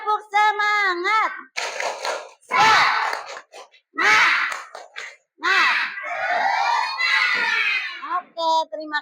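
Children shout a rhythmic clapping cheer in a classroom, loud sung calls interleaved with bursts of claps and group yells, led by a teacher's voice, close and energetic.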